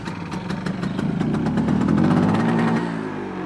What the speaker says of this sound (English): All right, let's kickstart the bike.